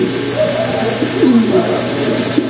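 Racing pigeons coo steadily in low, rounded, repeated calls, several birds overlapping close by with no pauses, during morning conditioning.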